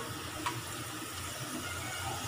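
Water pours steadily into a pan of browned onions while cooking aloo biryani, giving a constant, moderately loud rush of liquid with no talk.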